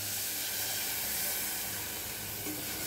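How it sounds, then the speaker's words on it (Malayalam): Tamarind water hits a hot pan of green peas curry, giving a loud, steady hiss and sizzle that holds evenly throughout without a break, close up and alone. "നമ്മൾക്ക് ഇതിലേക്ക് പുളി ഒഴിച്ചു കൊടുക്കാം"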